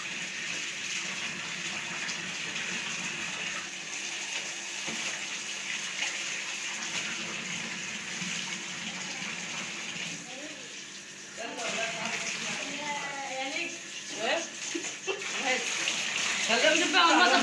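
Tap water running steadily into a tub or basin while curtains are washed at home, a continuous gushing splash, with someone talking over it in the later part.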